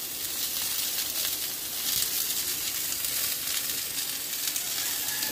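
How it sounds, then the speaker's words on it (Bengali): Ridge gourd frying in a pan makes a loud, continuous sizzle that stays close and even, with faint stirring and no talk. "দেখো চলো ঝিঙ্গেটাকেও একটু ভেজে নেব"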